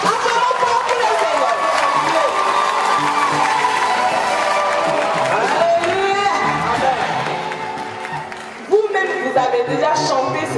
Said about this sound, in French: vous êtes en train d'acclamer en vrai que vous acclamez pour un enfant